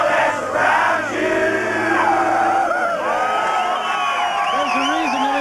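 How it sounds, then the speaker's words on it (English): Concert crowd at a reunion show in 1987, loud continuous cheering with rising whoops and yells, a low held tone fading early and wavering shouts toward the end. "This crowd is a little bit louder than they have been before."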